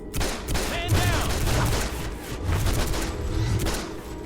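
Dual pistols fire in rapid bursts of overlapping shots in the DC Universe Online video game, with booming impacts and a dense, loud, continuous barrage.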